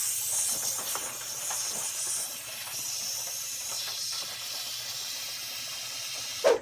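Coolant drains in a steady, hissing stream from beneath a 4th-gen Camaro during a water pump replacement and cooling system flush, partly missing the catch pan. The flow runs unbroken throughout, and a brief louder knock comes at the very end.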